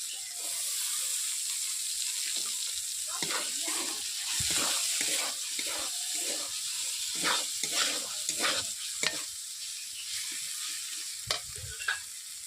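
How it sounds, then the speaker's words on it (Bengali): Chickpeas fry in a spice mix as they are stirred and scraped repeatedly around the pan, a continuous loud sizzle with frequent clattering strokes. "ছোলাগুলো এই মশলার মধ্যে দিয়ে দিলাম ওগুলোকে ছোলাগুলোকে ভালোভাবে কষিয়ে নিচ্ছি"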